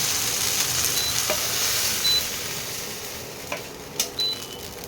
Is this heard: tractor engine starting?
no